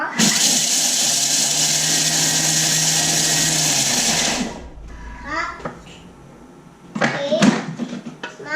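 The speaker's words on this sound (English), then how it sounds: "Cracking the peas." A grinder cracking dried peas for chicken feed runs loud and steady with a droning whine for about four seconds, then cuts off, leaving a voice chattering and a few clattering sounds nearby.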